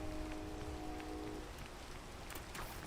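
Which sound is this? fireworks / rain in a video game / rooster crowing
rain in a video game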